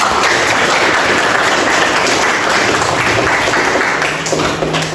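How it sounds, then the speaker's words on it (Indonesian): A classroom of students claps together in a steady, lively burst of applause that carries on for several seconds before thinning out slightly at the end. "Tepuk tangan."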